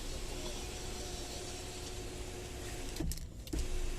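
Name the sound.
MG Hector car sunroof motor opening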